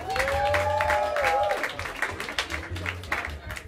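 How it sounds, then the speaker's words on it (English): Audience applause and cheering at a live jazz quintet performance at Smalls jazz club, a fairly loud burst of clapping with a sustained horn-like tone over the first second and a half, then scattered claps tapering off. "Bring your hands together and give a warm round of applause"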